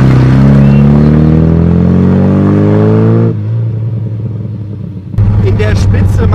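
A loud, rumbling 1971 Austin Healey Sprite MK IV engine runs close by, pitch rising as it revs, then settling into a throaty drone before surging again.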